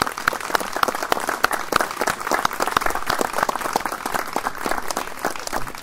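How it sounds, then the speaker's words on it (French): Outdoor audience at a 8 May 1945 commemoration ceremony in Aubais applauds the girls after their reading, a lively crackle of many hands clapping with distinct individual claps standing out, steady throughout and fairly near. "on peut les applaudir parce que c'est vraiment"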